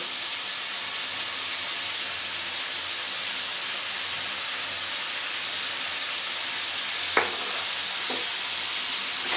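Rohu fish head and dal cooking in an oiled pan give a steady, close sizzling hiss throughout, with a couple of brief utensil knocks near the end.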